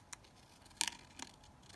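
Scissors snipping pressed-flower paper with a few short, quiet cuts, one sharper crisp snip in the middle and another shortly after, with no voices.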